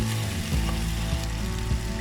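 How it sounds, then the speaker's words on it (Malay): Tomatoes and chilies sauté in a hot pan with steady loud sizzling and frying, faint stirring scrapes underneath and no voices. "Kita tumis sehingga tomato tu masak."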